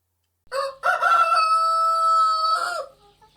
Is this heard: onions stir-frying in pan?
no